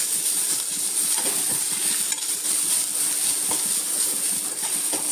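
Spice paste sizzling and frying in hot oil with onions and curry leaves for a green gram thoran, a steady dense crackle with faint stirring scrapes, close and continuous with no talk.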